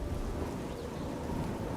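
Dense rain hisses without a break in Elder Scrolls IV: Oblivion, with a low rumble underneath, loud and even across a short stretch.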